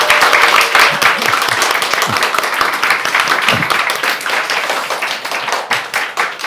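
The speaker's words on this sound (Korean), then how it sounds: "우리 박수로 환영하겠습니다" A church congregation at a Sunday morning service claps in welcome. The applause is loud, sustained and close, with some voices mixed in.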